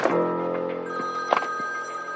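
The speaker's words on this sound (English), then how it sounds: "phone rings" A telephone rings indoors with a steady electronic bell tone that sustains across the moment, clear and fairly close, with no voices over it.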